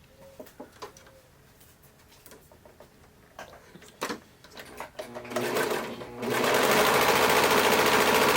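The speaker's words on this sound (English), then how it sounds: "The lining side I am going to serge off about half to 3/4 of an inch off the bottom." A serger overlock machine trims and stitches the lining of a pleated fabric mask. A few soft clicks and fabric handling come first, then the motor starts up and runs as a loud, steady close whir.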